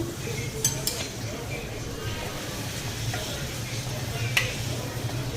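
Luchi made from mixed wheat and refined flour fry in hot oil with a soft, continuous sizzle. A few bright metallic clinks of a utensil against the pan come through, and faint voices sound in the background.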